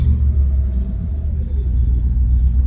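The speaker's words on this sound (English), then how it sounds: "let's go for a little ride and taste this beautiful convertible in action" 1963 Oldsmobile F-85 convertible on the move: a loud, steady low engine and road rumble, heard continuously from close up without talk.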